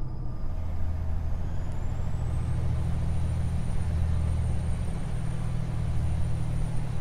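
A truck engine in the video game American Truck Simulator rumbles steadily and low, a continuous droning idle with a faint high whine, no talking.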